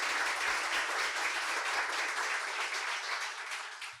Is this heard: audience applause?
yes